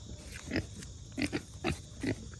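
A massive registered pig, around five feet long, gives several short grunting oinks in an irregular rhythm, close and fairly loud.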